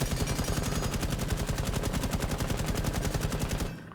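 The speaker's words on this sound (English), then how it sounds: "let's go ahead and see what is the recoil pattern of this weapon. So I'm going to hold down the trigger button." An automatic weapon fires in the video game Rainbow Six Siege, a rapid, evenly spaced burst of loud shots for about three and a half seconds before stopping abruptly.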